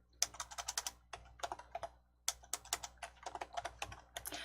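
Quiet clicking of a computer keyboard as a file name is typed, several quick bursts of keystrokes separated by short pauses, with no talking.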